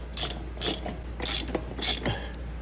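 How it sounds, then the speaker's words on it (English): A tool is spun onto a Dana 44 manual locking hub on a 1979 Ford Bronco, making four quick ratcheting bursts of clicking metal with short pauses between them, close and clear. "So I'm gonna spin it in now with the tool."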